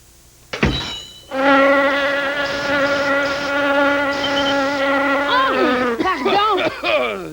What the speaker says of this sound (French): Des petites bêtes qui vous embêtent? Une mouche.